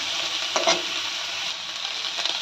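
Green, dried and Kashmiri chillies frying together in hot oil for a country chicken curry, a steady close hiss with a couple of brief spoon-stirring scrapes.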